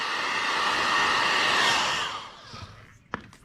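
Heat gun blowing a steady, loud hiss of hot air while shrinking window tint film on a Ford F-350, running continuously for about two seconds, then fading out with a few faint clicks and a sharp tap near the end.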